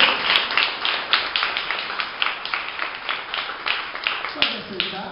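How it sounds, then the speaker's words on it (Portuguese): Church congregation at a Baptist evening service clapping together, a steady crowd of hands with rhythmic accents, moderately close and filling the room, with a voice speaking over it. "Com certeza Deus está muito feliz com as suas palmas"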